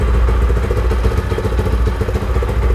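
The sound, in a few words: Speeder Monster 165 motorcycle engine sound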